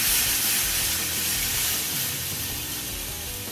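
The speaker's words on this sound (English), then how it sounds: "we're going to take our boiling water and begin to fill up that water reservoir" A continuous broadband hiss and rush of boiling water pouring into a grill's water reservoir, steaming, steady throughout with no voices.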